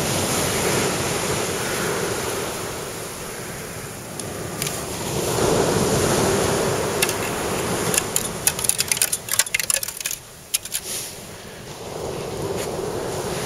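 Sea waves wash continuously onto a shore, a broad steady roar mixed with wind buffeting the microphone, with a burst of sharp crackling clicks partway through.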